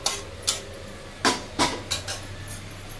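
Cooked vegetables are scooped from a pan onto a non-plastic plate, with a series of distinct clinks and scrapes of utensil on metal and plate, spaced irregularly.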